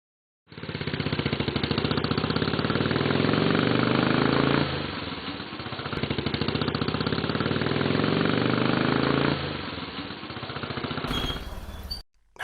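A Honda motorcycle engine chugs unevenly at idle, surging twice, then stalls near the end, followed by a brief clatter.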